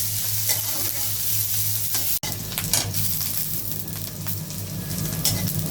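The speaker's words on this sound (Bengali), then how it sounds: "এখন ভালোভাবে লাল করে ভাজা নেব" Onions fry with cumin seeds in hot oil, a loud continuous sizzle broken by stirring scrapes and one brief dropout.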